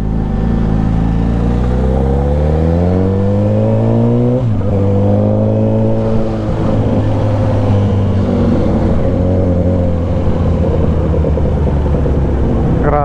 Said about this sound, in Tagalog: Pero itong traffic na to, matindi, grabe na to dito.